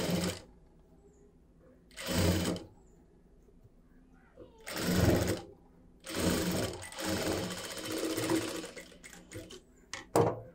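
A sewing machine stitches blouse fabric for a princess-cut blouse in loud bursts of running, with quiet pauses between them, the last stretch running longer and more steadily.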